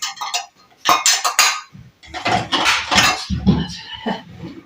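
Dishes and cutlery are washed by hand, with bursts of clinking and clattering metal and crockery along with watery rubbing and splashing, loud and close.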